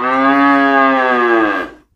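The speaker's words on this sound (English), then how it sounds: "Cow." A cow lets out one loud, long moo lasting nearly two seconds, close and steady before fading out abruptly, with nothing else heard.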